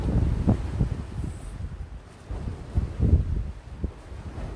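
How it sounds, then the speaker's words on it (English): Wind buffeting a microphone on a windy seaside shore during a fishing session, a low rumbling roar that swells and gusts in irregular bursts throughout. "if there's any wind in the microphone, because it is windy today"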